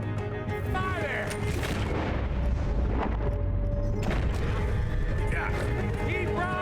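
Gunfire in a Red Dead Redemption 2 shootout with riders, dense booming shots and rumbling blasts thundering continuously, with shouting voices and game music mixed in underneath.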